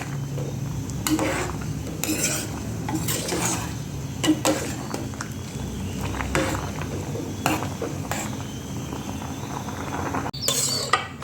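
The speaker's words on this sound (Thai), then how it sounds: "เคี่ยวให้กะทิแตกมัน ต้มเผือกหอมใส่กะทิ" A spoon stirs taro simmering in coconut milk in a pot, making repeated scraping and clinking strokes against the metal in a steady, busy rhythm, close and fairly loud.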